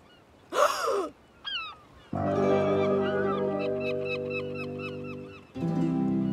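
Cartoon seagulls in a French Thomas & Friends episode set by the sea give a couple of short, sharp squawks, then a long honking cry runs alongside a stream of quick chirps before breaking off.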